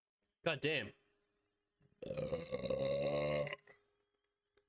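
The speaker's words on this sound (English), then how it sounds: "Now that was a burp." A long, loud burp after chugging beer, following a short exclamation; a single drawn-out belch of about a second and a half, close to the mic, with brief talk just before it.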